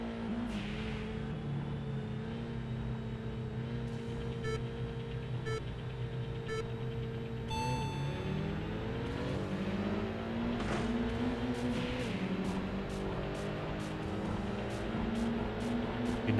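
Race car engine in a street racing video game, an import tuner time attack, revving hard toward 9,000 RPM with a loud continuous whine, shifting once mid-run and climbing again, with no talking over it.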